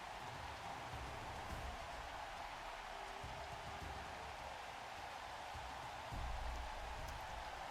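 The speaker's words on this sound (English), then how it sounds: "it's pouring rain" Steady, pouring video-game rain falls during a fantasy football match, a continuous hissing wash with low rumbling beneath and no speech.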